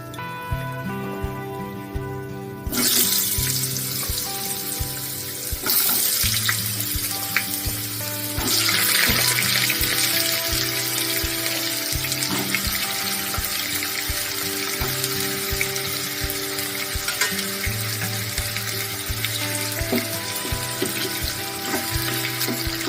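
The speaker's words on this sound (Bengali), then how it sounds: "নেড়ে চেড়ে ঢাকা দিয়ে লাল লাল করে ভেজে নেব" Potatoes fry in hot oil with bay leaves and warm spices for a Bengali green papaya dish, a dense, even sizzle that swells sharply as they go in and carries on close and steady.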